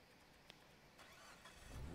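Mitsubishi Lancer Evolution X engine and exhaust in the Need for Speed racing game, a steady mechanical hum that swells louder toward the end, as if revving.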